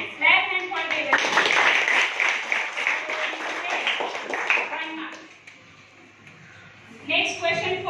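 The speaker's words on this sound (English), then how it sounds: "Clap hand for Devishree" Students in a classroom quiz clap for a classmate who answered correctly, a dense burst of hand claps for about four seconds that fades out before a voice speaks.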